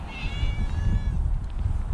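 A cat meows repeatedly, with several drawn-out, close cries over a steady low rumble, while being fed fish caught during winter fishing at a small stream.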